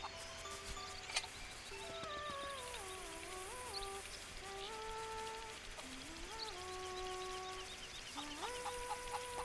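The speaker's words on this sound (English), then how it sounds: "Can we get the chicken to listen to Marin" Chicken clucking from the video game The Legend of Zelda: Link's Awakening, a string of bright, bouncing electronic cluck notes in short phrases over steady game background sound, with no talking.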